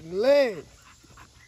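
A dog gives a brief whining, panting vocal sound up close, followed by a short spoken word.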